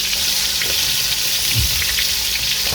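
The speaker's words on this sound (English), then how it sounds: "And then we brown on one side, a minute on one side, and then we flip it over." Beef ossobuco browns in hot oil with a loud, steady sizzle that fills the whole stretch, alone and close up.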